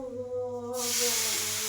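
Ghee with mustard seeds and curry leaves hitting a hot ladle, a sudden loud hiss and crackle that rises out of a low hum and keeps sizzling.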